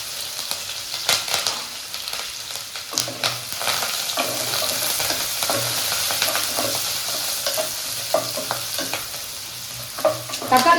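Dried red chillies and curry leaves sizzle and crackle in hot oil, stirred in a pan, giving a steady close frying hiss with scraping clicks and no talking.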